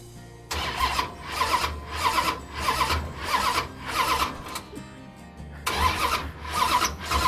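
A high-performance 440 engine cranks in a steady, rhythmic series of loud pulses, then fires and runs with a rough, lumpy beat close by. There is no talking over it.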